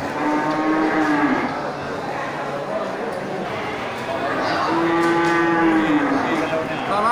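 Aceh and Bali cattle moo in long, low calls, one after another, at a livestock market in Geulumpang Payong, Aceh, over a busy crowd murmur and people talking in the background.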